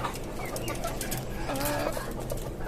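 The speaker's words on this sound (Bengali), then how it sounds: "এখানে আমার আরও একটা ফার্মি মোরগ আর কিছু দেশি মুরগিকে রাখা হয়েছে" On a low-cost rooftop farm, a farm rooster and native hens cluck in short calls through a dense, noisy background, fairly close.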